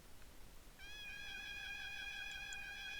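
A cat in the video game Greyfox gives one long, steady, drawn-out meow that stays clear and fairly close over a quiet background hiss.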